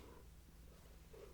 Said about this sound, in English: You might be hearing a purr now.